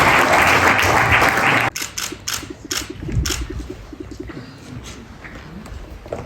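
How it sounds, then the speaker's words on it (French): Loud broadband applause at a French press club humour and politics awards evening fills the first seconds, then cuts off abruptly to a quieter room with scattered sounds and light murmur. "Applaudissements."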